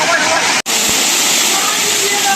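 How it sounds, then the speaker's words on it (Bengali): Water rushes at the first step of Chhagolkanda waterfall, a loud, dense, continuous roar that fills the whole clip and breaks only for a brief cut near the start. "এটা এখন আছে হচ্ছে একদম ছাগলকান্দা ঝর্ণার প্রথম স্টেপ।"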